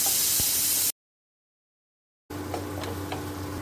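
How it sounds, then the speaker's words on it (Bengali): Spice masala of chilli and turmeric powder frying in a pan for Bengali potol chingri after a splash of water goes in: a loud, close hiss cuts off into a brief silence, then a steady sizzle returns with faint ticking crackles. "সামান্য একটু জল দেব, দিয়ে এবার ভালো করে কষাবো।"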